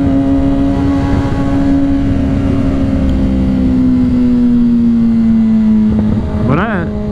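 A Kawasaki Ninja 400 motorcycle runs steadily on a track, its engine drone holding a near-constant pitch before a brief rising rev near the end; the engine noise is loud and continuous throughout.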